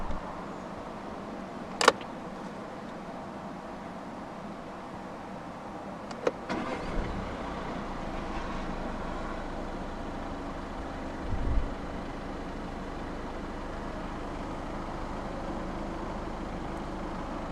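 A 2014 Škoda Octavia 1.6 TDI diesel with a manual gearbox starts up after a few faint clicks. It fires about a third of the way in and settles into a low, quiet, steady idle that continues to the end.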